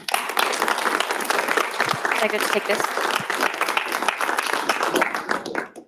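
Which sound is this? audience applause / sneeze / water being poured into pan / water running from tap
audience applause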